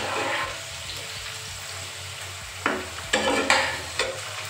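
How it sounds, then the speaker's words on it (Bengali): Potato pieces frying in oil in a pan, a steady close sizzle with scraping stir strokes near the end, heard alone without talk. "এবার আমি দেখব আলুটা আমার ভাজা হয়ে গেছে।"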